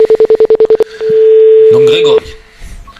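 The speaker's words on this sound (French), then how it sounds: "Ça sonne. Troisième sonnerie." A phone line on a radio call-in show gives a fast string of short dialing beeps, then a long steady tone, with someone speaking over it before the line goes quiet.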